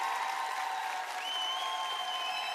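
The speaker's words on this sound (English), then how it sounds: "Let's give them a round of applause" Studio audience applause at the close of a health-themed game show, a steady soft wash of clapping at moderate distance with a faint tonal hum running underneath.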